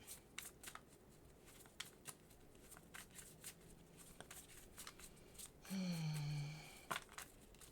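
Quiet, rhythmic tarot card shuffling with soft riffling flutters, interrupted by a short tonal squeak or hum partway through.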